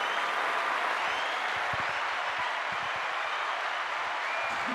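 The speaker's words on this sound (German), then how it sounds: "Bitte Applaus einblenden" Canned applause is faded in on a Franconian Christmas television show, a smooth, steady hiss of distant clapping with no distinct individual hands, even in level throughout.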